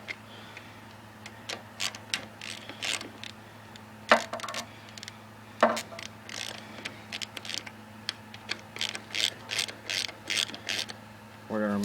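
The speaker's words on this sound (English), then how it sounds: "get your ratchet with a 3/8 socket and undo these 2 bolts" A ratchet with a 3/8 socket loosens bolts on a Briggs and Stratton 16hp OHV engine: quiet, close runs of rapid clicking in short bursts with brief gaps between strokes.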